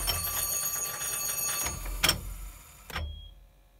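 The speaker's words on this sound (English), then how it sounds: "If something obstructs the bottles being set up, it will time out and give a fault alarm," Fault alarm of a home-built automatic air rifle shooting gallery, triggered when the bottle reset times out. It gives bell-like ringing bursts, then a steady electronic tone at the end, with no talking.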